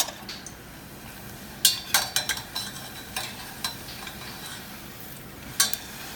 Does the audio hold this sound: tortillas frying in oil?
yes